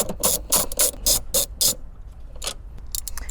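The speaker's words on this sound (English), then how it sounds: "you're gonna use these to remove the 4 bolts that are being held in for your seats" A hand ratchet clicks in quick bursts of rapid, close, sharp ticks with short pauses between strokes, loosening seat bolts inside a Lexus GX550.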